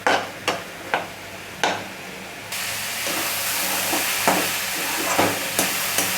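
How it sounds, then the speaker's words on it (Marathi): Onions frying on a high gas flame for chicken chutney, stirred constantly: sharp spatula scrapes against the pan, then a loud, steady hissing sizzle takes over as the pan heats, with more scraping strokes on top, no voices. "त्यामुळं मोठा गॅस करून आपण सारखा हलवत राहिला कांदा"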